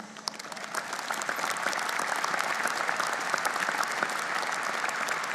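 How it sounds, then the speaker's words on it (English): Dense, sustained audience applause filling a large hall at a university graduation ceremony, even and steady throughout without pause. "please keep that applause going"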